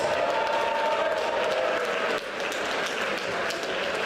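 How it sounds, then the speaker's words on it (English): A crowd at a boxing fight night applauding steadily for a few seconds, a dense wash of clapping that dips briefly and then carries on. "Massive round of applause"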